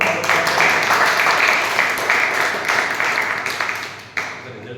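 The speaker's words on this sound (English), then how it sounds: "Can we have a huge round of applause?" Audience at a Toastmasters club meeting clapping for an international speech contest finalist, brisk dense applause that gradually thins out, with a bump near the end, and voices faintly mixed in.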